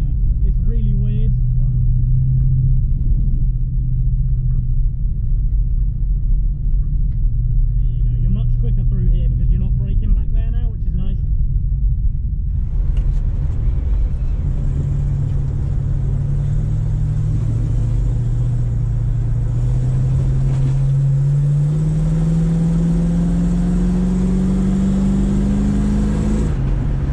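A 1968 Ford Mustang V8 being driven at the drift limit, with a loud, close engine drone that climbs steadily in pitch as it revs up, while people talk over it inside the car.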